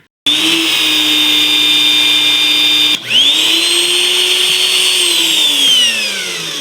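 Metabo HPT rebar bender and cutter working small pieces of rebar, a steady loud electric motor whine with a high tonal hum, briefly dipping at one point as the load changes, then running on alone with no talk.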